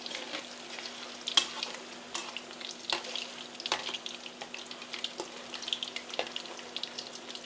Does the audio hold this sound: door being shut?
no